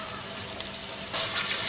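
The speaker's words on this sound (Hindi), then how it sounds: "इसी तेल में शामिल कर देंगे 1 चाय का चम्मच लहसुन अदरक का पेस्ट" Ginger garlic paste dropped into hot frying oil sizzles with a steady hiss that swells louder and brighter for the last half second; no talking.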